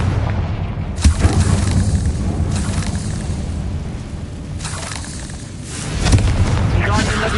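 The Confringo spell explodes in a Harry Potter game with several deep, booming blasts that thud loudly and rumble over a dense bed of game sound and music, with some voice alongside.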